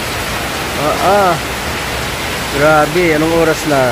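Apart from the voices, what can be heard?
heavy rain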